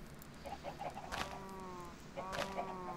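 Chickens in the video game Minecraft cluck in a few short bursts, faint and close, over a quiet background.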